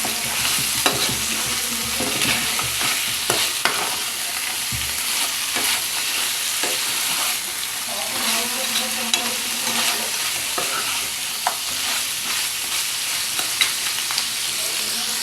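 Crab pieces stirred in a pan with salt and turmeric for a crab curry with brinjal, a steady sizzle under repeated scraping and clacking strokes of the spoon, close and continuous with no talking.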